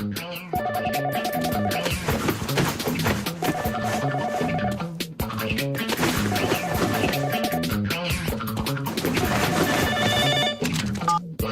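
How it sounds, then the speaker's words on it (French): An electronic cordless telephone ring repeats in regular bursts over a loud, busy background in an animated series. "Mais c'est surtout notre téléphone sans fil."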